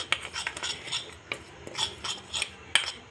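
A utensil stirs meat marinade ingredients for a Swahili biryani in a bowl. Light clinks and scrapes come in quick irregular strokes, close and soft, with no voice.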